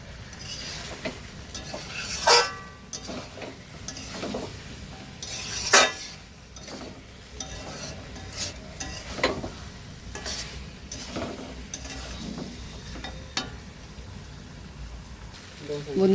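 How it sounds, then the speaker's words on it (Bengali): Potatoes tumble into a pan of frying chicken curry, with loud sizzling, scraping stirs and clattering bursts at irregular intervals throughout. "এবারে আলুগুলো দিয়ে দেব।"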